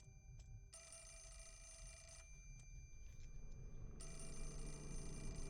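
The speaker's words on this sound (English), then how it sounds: "Come on, pick up the phone." A telephone rings in the Fatal Frame 4 horror game, a quiet repeating electronic bell in two bursts separated by a pause, over a low ambient drone.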